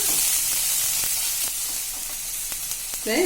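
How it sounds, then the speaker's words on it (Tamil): Garlic and the white part of spring onion sautéing in a pan give a steady close sizzle with a few faint clicks of stirring, and a brief voice at the very end. "அந்த வெள்ளையாக இருக்கிறத அதையும் சேர்த்து வதக்கிக்கலாம்"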